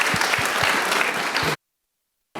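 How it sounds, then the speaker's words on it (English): An indoor audience at a mental health and music event claps for the guests, a dense burst of applause lasting about a second and a half before cutting abruptly to silence. "can we please get a round of applause for all of our guests?"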